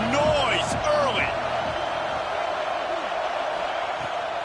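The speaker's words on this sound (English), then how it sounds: "This crowd bringing the energy and noise early" Roaring stadium crowd at a football game, a dense continuous wash of cheering over a sports commentator's voice and whistles near the start.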